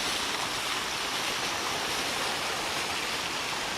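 A waterfall pours onto a beach, a loud, steady broadband rush of falling water, close and continuous with no voices.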